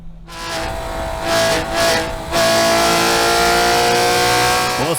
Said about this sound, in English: this is my 996 GT3 track car